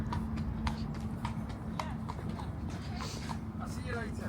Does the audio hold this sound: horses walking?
yes